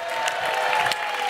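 Studio audience applause on a family game show, a steady dense wash of clapping that holds loud and even for just over a second.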